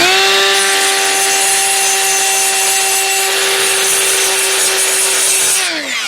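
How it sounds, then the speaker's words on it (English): A high-pitched power grinder works a casting ridge in a Vortec cylinder head during porting for a 400 small-block Chevy, holding a steady whine for about five seconds before winding down, loud and close. "I'm being super careful not to grind where it's low"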